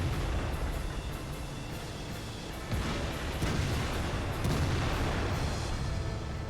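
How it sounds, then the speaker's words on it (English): Artillery fire in World of Tanks during a castle battle, heavy booms rolling under constant rumbling battle noise, several dull impacts swelling and fading with no voices over them. "Artillery went for the Jagdtiger."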